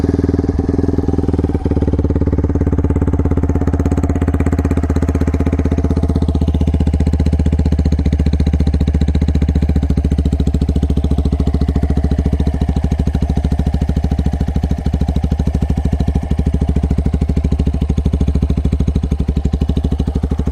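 Brixton Felsberg 125 motorcycle fitted with a megaphone exhaust idling close by, a steady low pulsing thrum with a rapid even rhythm that runs unbroken for the whole stretch.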